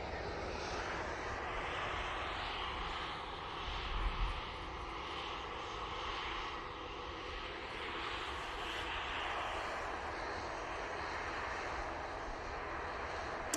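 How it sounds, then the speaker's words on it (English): A Virgin Atlantic Airbus A330 airliner taxis out at Manchester Airport, a steady broadband jet engine roar sustained throughout at moderate distance, with a brief louder thump partway through. "that Virgin Atlantic A330, it's going off to London Heathrow"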